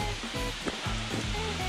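Tatsusawa Fudo waterfall, small and partly frozen in winter, pours in a steady broadband rush that stays constant and fairly loud throughout.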